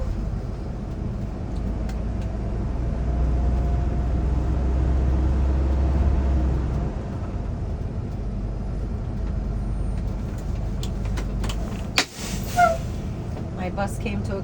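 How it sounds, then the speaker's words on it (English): A Class B bus drives slowly about fifty feet at five miles an hour, then its service brake brings it to a stop with a sharp air-brake hiss near the end, over a low engine rumble. "I'm going to drive 50 feet. 5 miles an hour and apply my service brake to make sure my bus comes to a complete stop."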